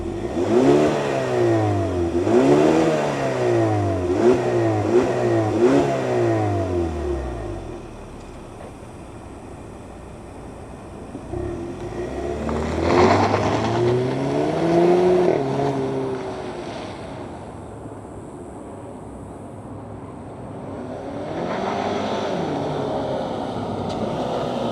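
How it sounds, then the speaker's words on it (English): A 2025 Hyundai Sonata N-Line with a 4-cylinder turbo engine starts up and revs repeatedly in loud rising-and-falling sweeps, then settles to a quieter idle before another few blips. "let's fire up this 4-cylinder turbo Sonata and hear what it sounds like"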